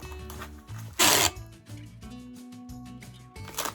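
Long strips of masking tape rip off the roll in several quick, close tearing bursts and are pressed onto a package holding glass or breakable items.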